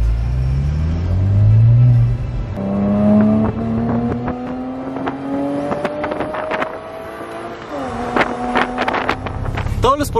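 A Porsche Boxster S with its 3.2-litre naturally aspirated engine revs behind the cabin, rising tones climbing through gears, loud and close with wind rush and road rumble, speech briefly over it.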